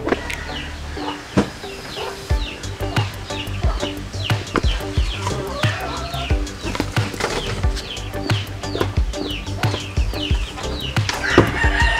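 Native free-range chickens clucking and a rooster crowing around a rural yard, steady overlapping calls and sharp clucks throughout, moderately close with no talking.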